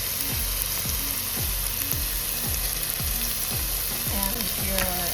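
Onion hitting warmed extra virgin olive oil for a gluten-friendly broccoli soup sizzles steadily, with rhythmic scraping stirs of a utensil against the pan repeating about once a second.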